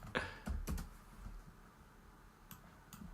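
Quiet typing on a computer keyboard, with a few scattered clicks and a short burst of keystrokes near the start, and sparse taps later.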